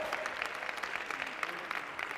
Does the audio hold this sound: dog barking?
no